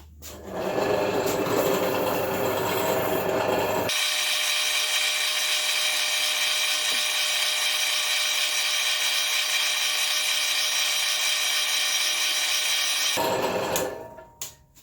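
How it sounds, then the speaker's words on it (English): A drill press drilling into metal gives a steady mechanical whine with grinding hiss that runs continuously for several seconds, starting and stopping abruptly. "we have here a drill press."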